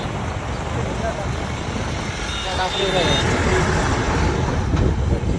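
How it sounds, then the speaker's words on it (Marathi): Loud, continuous roadside traffic with vehicles rumbling past close by, a faint horn or beep, and voices talking over the noise. "तर मंडळी खूप गाड्या"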